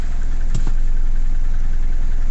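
Nissan Navara D40 2.5 dCi diesel engine, suffering power loss and hard starting, idling close by with a steady, even low clatter and one brief knock early on.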